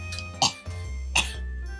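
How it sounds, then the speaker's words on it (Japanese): Two short coughs, close by, separated by a brief pause over a low background hum. "ちょっと咳出とうみたいし"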